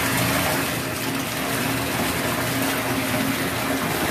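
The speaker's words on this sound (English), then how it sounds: "Let's go ahead and pop on our water and build some bubble." Water gushes steadily from a tap into a bathtub to build bubbles, a loud continuous rushing roar that stays even throughout with no talking.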